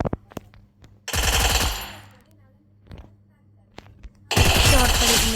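Sniper rifle shots in an online video game ring out as two loud, sustained blasts separated by a few seconds, with softer clicks and quieter game sounds between them.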